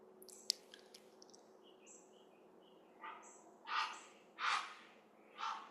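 A heron gives several harsh, raspy squawks while flying by, spaced about a second apart and growing louder, after fainter high chirps from other birds in a quiet outdoor setting.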